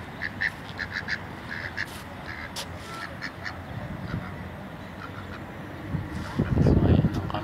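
Ducks quack repeatedly in short bursts beside a university campus in Bormla, Malta, moderately close over a steady outdoor background, with a louder low rumble near the end.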